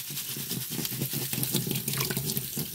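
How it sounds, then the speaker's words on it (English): Tap water runs over tumbled Huckleberry garnet stones being rinsed after medium grit tumbling, a steady close splashing and gurgling stream with faint clicks of stones, no speech. "And we'll give them a little rinse off here."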